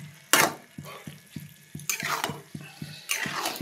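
Water poured into egg curry cooking in a pan, a splashing pour with sizzling and stirring scrapes, repeated bursts over about four seconds.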